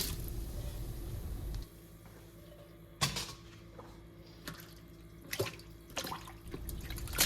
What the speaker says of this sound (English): After that, I'll pour in 1 gallon of purified water that we heated up to mix everything together.